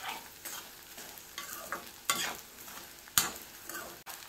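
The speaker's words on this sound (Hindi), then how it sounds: "इसको मध्य आंच पर चलाते हुए पकाएंगे।" Edible gum frying in ghee inside a kadhai while being stirred, a steady close sizzle broken by sharp scraping strokes of the spoon against the pan, with no voices.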